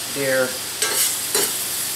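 Onions cooking in a cast iron pan alongside cabbage and bacon, a soft sizzle with a brief tonal squeak early on and two quick scraping stirs close by.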